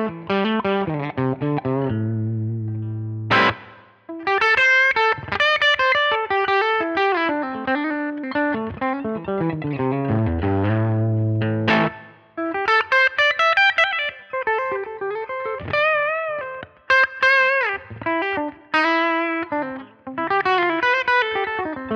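Electric guitar through a Fender-style amp model on a Line 6 Helix, with upper mids and highs boosted, plays melodic single-note lines and chords, clean with light effects and reverb, loud and continuous with brief pauses.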